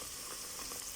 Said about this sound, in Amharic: ሽንኩርት እንደዚህ እየበሰለ ነው